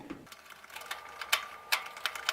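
Small screws are being undone on a washing machine, heard as a close series of sharp ratcheting clicks and ticks from a screwdriver, irregularly spaced, with no talking.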